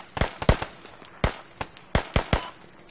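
Gunfire in the Squad video game at Kohat Toi River Valley: about ten sharp, cracking shots arrive in an uneven burst, each a brief loud snap with a short echoing tail.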